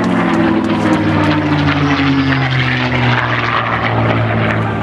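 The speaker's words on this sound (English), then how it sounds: "Listen to that Rolls-Royce designed engine." P-51 Mustang fighter with a Rolls-Royce-designed piston engine flying close by, a loud continuous propeller drone with a slowly shifting pitch throughout.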